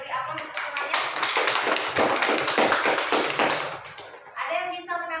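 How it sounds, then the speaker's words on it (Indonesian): Students in a classroom applaud together in a burst of dense, close clapping lasting about four seconds, which fades as a voice briefly comes in at the end. "Beri aplaus untuk semuanya."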